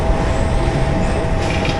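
Mumbai Harbour Line suburban electric local train running near Sandhurst Road station, heard from inside a first-class coach: a loud, steady rumble and rattle of wheels and carriage, continuous throughout with no talk.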